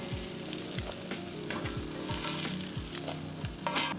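Filets sizzle on a hot Big Green Egg grill in a close, crackling fry, with small pops spaced along the sizzle. Nobody talks.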